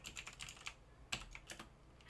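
Computer keyboard keys tapped in quick irregular bursts while code is entered in NetBeans for a Java program, close and fairly quiet, with short pauses between clusters of keystrokes and no talking.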